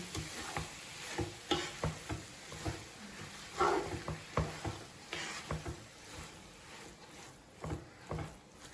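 Pumpkin cooking in ghee in a pan, stirred with repeated scraping and knocking strokes over a faint sizzle, close by and quiet, each stroke separated by short pauses.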